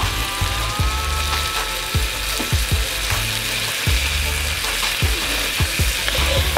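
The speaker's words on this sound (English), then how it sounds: "I'm going to add in a couple of scoops of this minced garlic." Minced garlic frying with onion, celery and bell pepper in a pan for crawfish jambalaya, a steady loud sizzle with regular scraping stirs from a utensil, close and continuous, with no voices.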